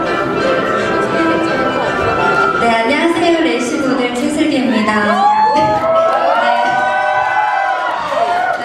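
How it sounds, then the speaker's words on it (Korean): An award-ceremony crowd at the Korea Racing Model Awards cheers and whoops loudly, with shouts rising over a constant mix of voices and celebratory noise throughout. "다시 한번 축하의 박수 부탁드리겠습니다"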